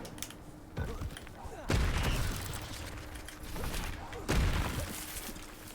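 A fire spell cast in Hogwarts Legacy, heard as two bursts of crackling, whooshing effect noise near the 1.7 s and 4.3 s marks. Each burst is loud and close and sits over a steady game background.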